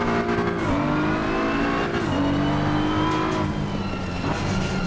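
Race car engine in Assetto Corsa Competizione, a loud continuous drone that rises and drops with gear changes through tight turns, steady and close without talk.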